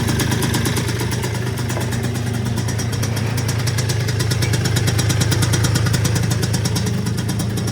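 A small Yamaha Zuma scooter engine idles steadily after a cold start with a fast, even putter, loud and close, running on without talk.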